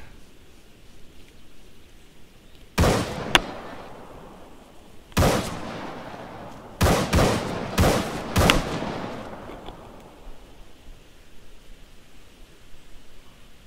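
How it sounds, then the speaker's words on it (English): Gunfire in the game Breaking Point, shots aimed at a building: a handful of loud, sharp reports spaced irregularly, including a quick cluster of several, each followed by a rumbling decay over a hushed background. "I'm gonna shoot it a few times."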